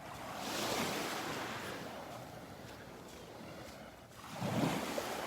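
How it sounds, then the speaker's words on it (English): Small waves break softly along the shore at Vanderbilt Beach, a faint, continuous wash of surf that rises and falls, with one wave swelling more clearly near the end and some wind noise on the microphone. "right where you see the little waves breaking."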